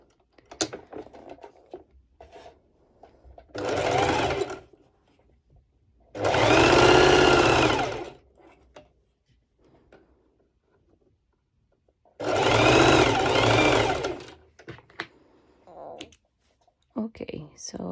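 A sewing machine runs a plain straight stitch at the longest stitch length on bikini bottoms, with three separate whirring bursts between quiet pauses and soft handling noises.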